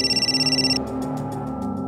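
A telephone rings with a bright, warbling electronic tone for under a second, then cuts off, leaving a low hum and faint fading pulses.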